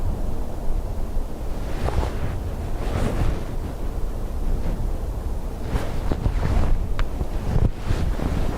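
Gusty wind at Dublin Airport buffets an outdoor microphone during plane spotting on a windy day, a steady broadband roar that swells into stronger gusts, with no voices.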